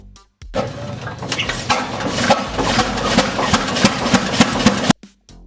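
A two-cylinder horizontal 13.5-litre petrol tractor engine, run on low-octane fuel, chugs steadily at close range with a rapid, even beat, starting abruptly and then cutting off at the end.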